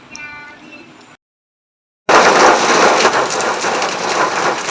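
Heavy rain pours down in a steady, loud roar of dense hiss that sets in abruptly after a brief silence at a house being built in the Philippines, with no voices over it.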